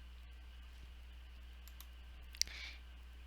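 A single sharp computer mouse click lands near the end, clicking an email link on a desktop or laptop computer, alone against a steady low hum.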